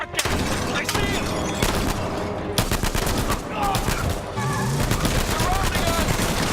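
Gunfire in an Uncharted 4 gameplay demo at the E3 2015 PlayStation press conference, loud rapid bursts and single shots crowding together nearby, with shouted voices mixed in.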